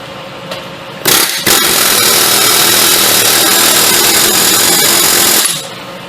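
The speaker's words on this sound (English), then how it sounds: "Okay, air hammer" A pneumatic air hammer bursts on after a brief hiss and rattles loudly and continuously for several seconds against a Chrysler 2.7L V6 engine bolt before cutting off, close and harsh.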